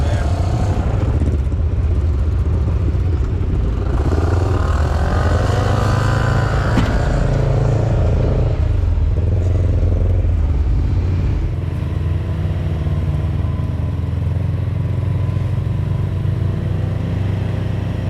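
Side-by-side off-road vehicles, a RZR Turbo, Kawasaki KRX and Can-Am Maverick X3, driving through snow: a loud, continuous engine roar with rising and falling revs throughout, and a voice speaking over it.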